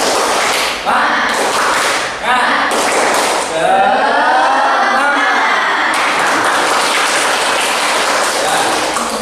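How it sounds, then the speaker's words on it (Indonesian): A class performs a rhythmic spirit clap, the tepuk semangat, with patterned group clapping under chanting voices, loud and close, with a shouted vocal stretch in the middle. "agar semangat kita tepuk semangat terlebih dahulu ya"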